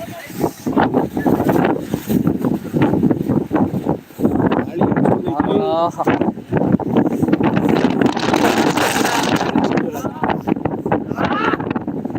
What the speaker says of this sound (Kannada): ಹೌದು ಗಾಳಿ